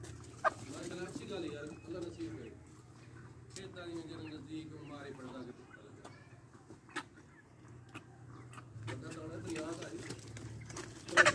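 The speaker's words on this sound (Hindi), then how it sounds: "ये 20 हैं मुर्गियां देसी।" Twenty desi hens cluck and coo softly in a yard, with scattered short calls heard under someone talking throughout.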